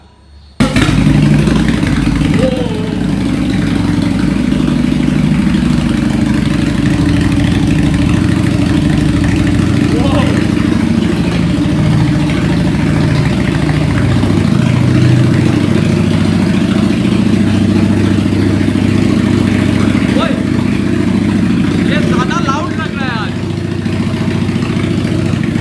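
Royal Enfield Bullet 500 and Harley-Davidson motorcycles idle together in a garage, a steady low rumble running throughout, with voices talking over the engines.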